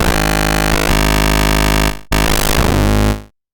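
Bright, buzzy FM synth lead in Bitwig with frequency modulation from a triangle into a sawtooth: a sustained loud tone with a couple of quick note changes, a brief dropout, then a rougher warbling stretch before it cuts off.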